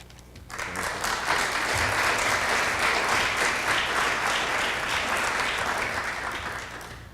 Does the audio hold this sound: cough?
no